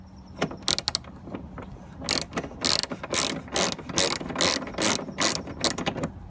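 A ratchet loosening 10mm bolts on a Honda Elite 80 scooter during front plastics removal, close and crisp, with a few quick clicks then a long string of rhythmic bursts of ratcheting.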